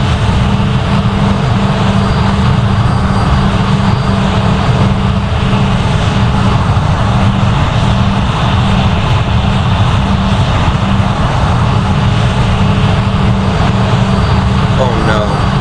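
Airbus A320 jet engines on landing approach in the flight game Project Flight, a loud, constant droning roar that fills the whole stretch without a break.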